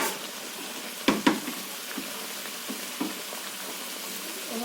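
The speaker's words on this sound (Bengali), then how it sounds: "আমি ভেজে রাখা বেগুনটা দিয়ে দিচ্ছি" Pre-fried eggplant pieces go into a hot pan for an egg-and-eggplant curry. A couple of sharp clatters open onto a steady, close sizzle of frying oil, with a few light stirring knocks.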